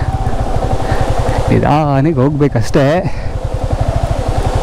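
A Yamaha R15 motorcycle engine thrums with a steady fast pulse while riding along a forest route, close and loud, as someone speaks over it midway.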